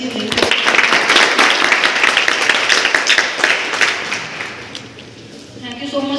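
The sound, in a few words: audience applause at orientation program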